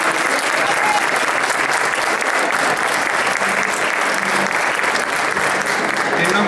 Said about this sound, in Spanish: Ese mismo aplauso que es para cada uno de los integrantes lo pido también para Cristian Caselli